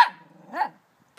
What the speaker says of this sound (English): What are you barking at, Zip?